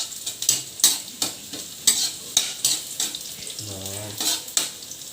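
Vegetables sauté in a hot pan, a constant sizzle broken by repeated scraping strokes of a spatula stirring in an uneven rhythm, close and fairly loud, with a short hum near the end.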